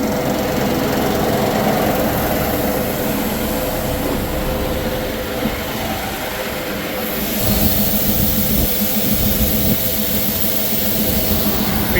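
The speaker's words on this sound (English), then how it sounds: "His first time running the tractor backwards too" A tractor engine drones loudly and continuously up close while loading lentils, a heavy rumbling roar that shifts slightly in tone halfway through.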